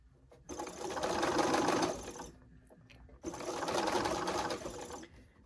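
A sewing machine stitches in two sustained runs, each lasting a couple of seconds, separated by a brief quieter pause; the motor whir is steady and close, with no talking over it.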